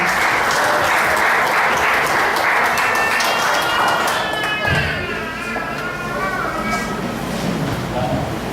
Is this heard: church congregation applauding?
yes